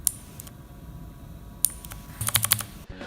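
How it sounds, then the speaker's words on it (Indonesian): Clicky keystrokes on a Meca 8s 75% mechanical keyboard, sparse sharp presses at first, then a quick cluster of several loud clicks near the end, close up, no talk. "kalau kita pencet switchnya itu kedengaran suaranya sangat clicky sekali kalau dibandingkan dengan switch yang warna lain"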